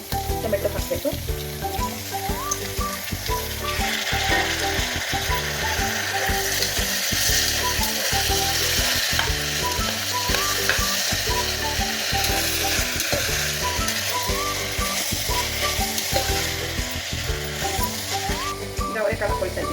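Onions with tomatoes added, frying in a pan for tomato bath: a steady, loud sizzle with a regular clicking, scraping rhythm of stirring throughout, close up and without talk.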